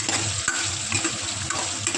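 Curry leaves, onions and spices crackle and spit as they hit hot oil for a sambar tempering, a close, busy sizzle with sharp pops and a few light clinks of a spoon.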